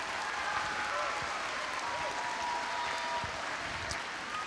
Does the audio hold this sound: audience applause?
yes